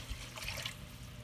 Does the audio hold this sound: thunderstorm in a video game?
no